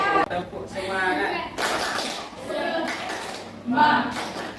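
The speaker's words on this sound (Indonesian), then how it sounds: "Tepuk semangat." A classroom of students performs the 'tepuk semangat' clapping chant, sharp rhythmic bursts of hand claps mixed with loud chanted voices, close and energetic.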